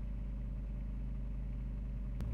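Kubota 719 cc diesel engine idling while warming up, a steady low rumbling drone with a constant even throb, close and unchanging, with a brief faint click near the end.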